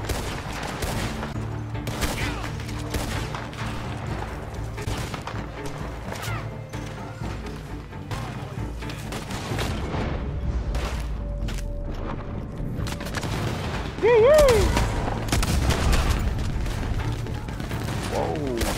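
Gunshots ring out in a Red Dead Online gunfight, some single and some in scattered volleys, with crashes and impacts between them. A player talks over the shooting, and one sharp whistle-like tone rises near the end.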